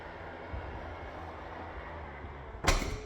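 Powered boot of a 2017 Land Rover Discovery HSE closing: a low, steady motor hum for a few seconds ending in a sharp, solid latch thud close by.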